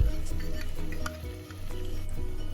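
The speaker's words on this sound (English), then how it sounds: "Now, after sauteing the natural seasonings for a couple of minutes, I'm going to add my tuna fish." Tuna fish going into a pan of sautéing natural seasonings for Jamaican sautéed tuna, a loud close crackling sizzle with a few spoon clinks and stirring scrapes, steady throughout with no voices.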